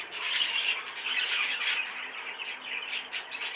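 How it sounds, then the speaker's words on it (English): A yellow hen bird gives a run of sharp, squawky calls close up, bright and repeated across the moment with no talking. "It does give that little hen call to it."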